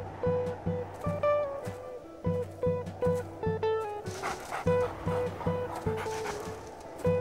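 A cartoon puppy barks in repeated short yips and woofs with panting between them, loud and close, over a light windy backdrop.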